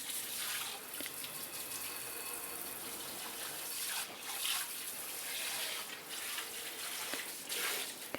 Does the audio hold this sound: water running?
yes